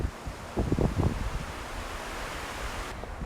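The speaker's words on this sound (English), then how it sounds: "It's so windy tonight." Strong wind gusts at a forest wild camp at night, a broad rushing roar that swells briefly and then settles into a steady blowing hiss.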